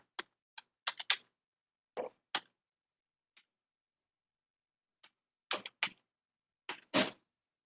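Computer keyboard keys click in short sparse bursts and single taps separated by pauses, close and crisp in a quiet room, with no voices.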